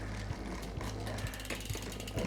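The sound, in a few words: bicycle jockey wheel rubbing the cassette while pedaling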